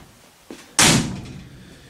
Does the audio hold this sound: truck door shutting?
yes